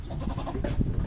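A brief goat bleat rises over a busy background of shuffling animals, close and moderately loud.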